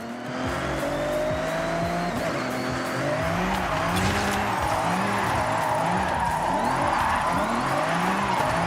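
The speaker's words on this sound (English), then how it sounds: "It sounds good and it looks good. Cool drift car." A drift car engine in a video game revs up and down in repeated surges while tires squeal and skid continuously, loud and close with no voices.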